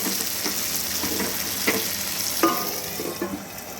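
Cauliflower and flat beans frying in a covered pan, a steady close sizzle with intermittent stirring scrapes and clinks, no talking.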